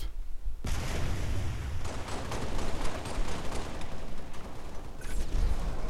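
Pistol fire in a Halo Reach capture-the-flag match on the Powerhouse map, heard as a dense, continuous barrage of game gunfire and impacts that lasts the whole stretch with no talking.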